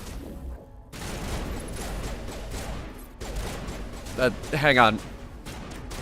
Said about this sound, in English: I'm shooting people